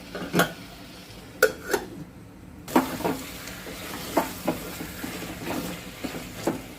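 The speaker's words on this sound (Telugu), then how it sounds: "కలిపేసుకుని మళ్ళీ మనం మూత పెట్టుకుందాం." Mutton curry being stirred in a pot, with a spoon scraping and knocking against the metal in irregular clinks over a soft sizzle, close by, with no talking.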